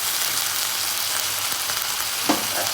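Ginger garlic paste frying in a pan for a coconut milk chicken dish: a constant, loud, hissing sizzle with a brief stirring clatter near the end, no speech.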